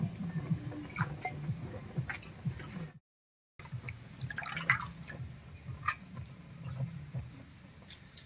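Moringa leaves being rinsed in water in a home kitchen, with soft drips, sloshing and squishing of wet leaves in irregular bursts, close and fairly quiet, broken by a brief gap of silence.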